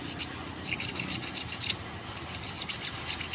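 Fine sandpaper rubs back and forth over a copper tube in quick, regular strokes, soft and close, with no voices.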